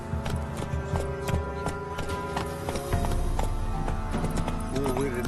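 Horse hooves clip-clopping in The Witcher 3 video game, a steady rhythmic run under layered game music, with a brief whinny-like sound and speech over it.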